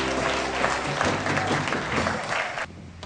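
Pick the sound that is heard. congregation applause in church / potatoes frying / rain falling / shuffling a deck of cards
congregation applause in church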